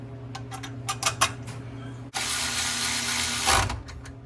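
Clutch cover bolts on a Polaris RZR Pro R four-cylinder are run in with a power tool, a loud steady whirring burst after a few light metallic clicks and taps.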